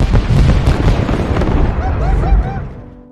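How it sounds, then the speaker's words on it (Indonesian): Ships blowing up in a war film, a loud dense explosion rumble at first that decays into rolling debris noise, with bird-like chirps showing near the end. "Dan keesokan harinya, beberapa kapal di sana pun meledak."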